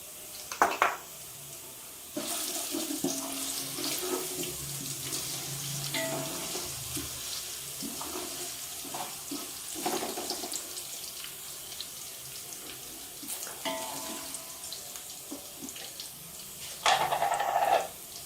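Water is added by the spoonful to whole spices for an achari chana chicken biryani, heard as soft splashes and trickles over a low sizzle, with occasional clinks of utensils against the pot and no talking.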